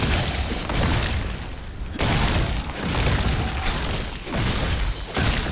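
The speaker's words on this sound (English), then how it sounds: "All I have to do is just corpse explosion and everyone dies." A corpse explosion spell in Diablo 3 sets off a string of heavy, crashing blasts that come in rapid, overlapping bursts, loud and booming, with brief dips between them and no talk over the top.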